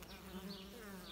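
Close, continuous buzzing drone of native honeybees flying in and out at a hive entrance, soft and steady with slight wavering pitch.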